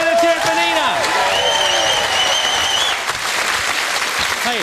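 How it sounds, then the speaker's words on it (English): Studio audience on the Catchphrase game show breaks into loud, sustained applause and cheering, dense clapping filling the space while a voice speaks over it. "Give her a big cheer."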